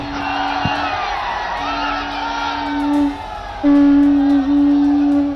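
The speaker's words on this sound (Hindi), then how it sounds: "ये देखिए भीड़ की तरफ से जो आवाज आ रही थी आप सुन रहे थे" A large crowd cheers, whoops and chants at PM Modi's roadshow in Varanasi, with a sustained, loud swell of shouting that rises sharply toward the end.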